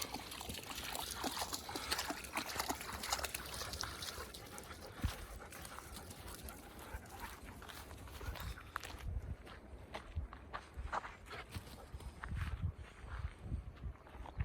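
A dog laps and slurps at muddy water close by in a forest, with wet splashing, panting and shuffling movement around it.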